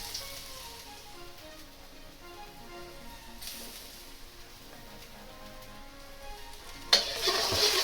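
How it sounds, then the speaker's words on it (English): Garlic and ginger fry in a tablespoon of oil in a wok over medium heat, giving a soft continuous sizzle that swells into a louder hiss near the end. "I'm gonna throw in my garlic and my ginger"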